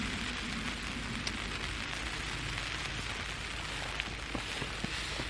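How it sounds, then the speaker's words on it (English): Steady rain patters on a backpacking tent during a solo winter wild camp in the Brecon Beacons, a dense continuous hiss with a few closer drips, no voices. "Started raining."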